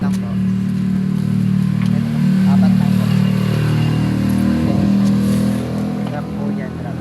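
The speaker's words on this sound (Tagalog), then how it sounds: "nandito tayo sa traffic" Road traffic surrounds a vehicle on a trip to a parcel drop-off, a steady low engine hum from close by with faint passing vehicles while a person talks over it.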